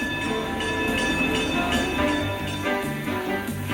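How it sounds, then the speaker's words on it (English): A Manitou steam train near its shops on Pikes Peak starts down toward the depot, a continuous loud rumbling mechanical drone with ringing tonal bell-like notes held over it throughout. "a few bells are heard, and their train starts down to the depot"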